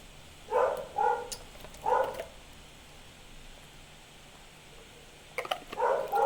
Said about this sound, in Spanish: ¿se escucha mucho el perro?